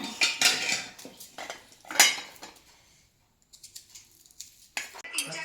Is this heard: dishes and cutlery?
yes